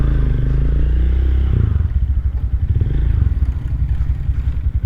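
A Rusi RE250 motorcycle with an LX166FMM engine runs close and loud, first a steady low drone, then a rough, pulsing, clattery idle with uneven throb.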